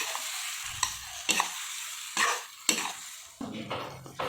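A paste of ginger, garlic, onion and tomato is stirred in a pan for an okra dish. A soft sizzle sits under several distinct scraping strokes spaced about half a second apart, close and moderately quiet.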